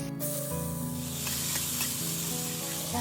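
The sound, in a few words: cumin, cashews and almonds frying in oil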